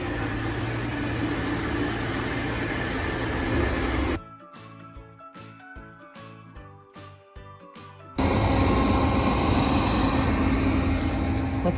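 A Xiaomi robot vacuum cleaner with wet mopping runs with a steady whooshing motor hiss, interrupted midway by a few seconds of quieter clicks and whirs before the loud suction returns.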